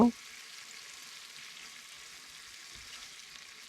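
Orata sea fish curry, cooked Bangladeshi bhuna style with coriander added, being stirred in a frying pan: a soft, steady sizzling hiss throughout, fairly quiet, opening with a brief knock.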